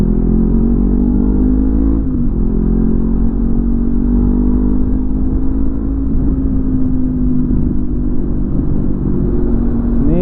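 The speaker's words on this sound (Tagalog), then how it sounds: "Medyo marami ng sasakyan," Steady road traffic on a bypass road between Atimonan and Mauban, with continuous engine rumble and whir from several cars and motorcycles passing nearby, fairly loud and unbroken throughout.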